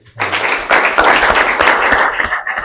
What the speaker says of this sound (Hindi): ताली हो जाओ इसके लिए।